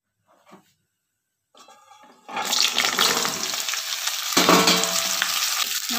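Mixed vegetables for dal sizzling loudly in a hot pan after being tipped in, a sudden burst of frying hiss that carries on steadily with stirring scrapes, heard close and without speech.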